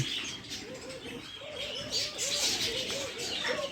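Doves coo in a repeating, rolling rhythm while smaller birds chirp busily over the top, a close, continuous aviary chorus in an eco park bird enclosure.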